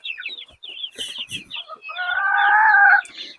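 Broiler chickens cluck and chatter in short bursts close by, then one bird lets out a longer, drawn-out squawking call.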